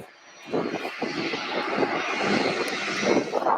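An Airbus A300 rolling at Louisville airport gives a steady broadband engine roar that swells in after a quiet start and holds loud and continuous, with no voices over it.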